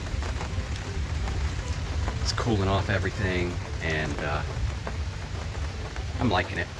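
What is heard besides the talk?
raindrops of a rain shower falling outside an RV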